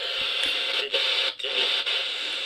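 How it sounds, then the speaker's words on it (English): An FM radio tuned between stations gives a steady hiss of broadband static, fairly loud and continuous, with a few brief dips and crackles as it plays alone. "away from where the music and stations are, you just get white noise"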